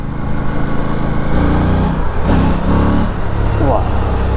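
An Aprilia Tuono 457 motorcycle's small engine runs steadily while riding through town, a loud continuous low drone that swells briefly as the revs rise, with a voice talking over it.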